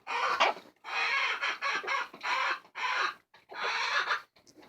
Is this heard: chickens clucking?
yes